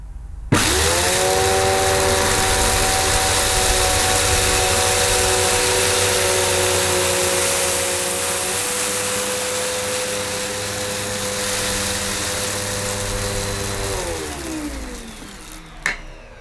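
A Zanuusi AirSpeed Lite II pet bagged upright vacuum switches on with a loud, steady motor whine while cleaning carpet, its pitch dipping slightly midway before it winds down and shuts off near the end.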